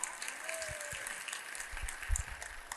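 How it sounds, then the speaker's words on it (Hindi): Applause from an audience at a spiritual dialogue gathering at Bageshwar Dham in Chhatarpur, Madhya Pradesh, a steady wash of many hands with scattered louder claps, heard from a distance and moderately quiet. "यहाँ भी सनातनी, जोरदार ताली बजा भैया।"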